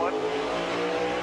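NASCAR race cars roar on track during a chaotic restart at Fontana in 2023, a loud sustained engine drone with possible tire squeal as a car spins, under excited Spanish commentary.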